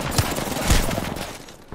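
Gunfire in a video game: muffled, rapid bursts of shots rattle through busy background game noise for a brief moment.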